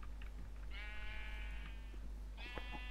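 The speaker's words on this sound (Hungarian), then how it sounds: "Közben megnyírom a birkákat." Sheep bleating in Minecraft with the FTB modpack, two drawn-out nasal bleats in succession over a quiet, steady game background.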